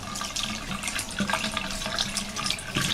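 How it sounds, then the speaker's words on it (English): Tap water runs steadily into a sink while the cap of a Swirl and Sparkle brush cleanser is rinsed beneath it, a close, continuous splashing stream with small shifts as the cap moves through the flow. "now just rinse out the cap"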